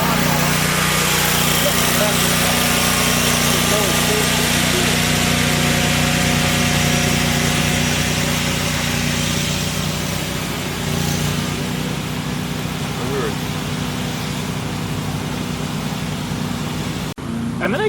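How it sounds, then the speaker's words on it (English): A lawnmower engine runs at night with a steady, loud, droning hum that continues under talk until it cuts off abruptly near the end. "Not like mowing the lawns like these guys right in the middle of the night"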